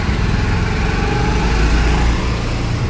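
A motorcycle engine that has just been started runs steadily, a continuous mid-pitched idle with an even, throbbing beat close to the microphone and no talk over it.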